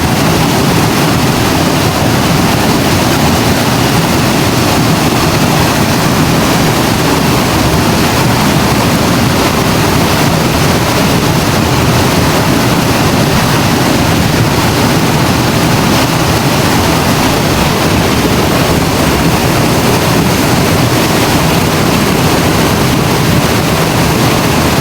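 Swift river current rushing continuously, a loud, dense, unbroken roar of water that fills the whole stretch with no voices.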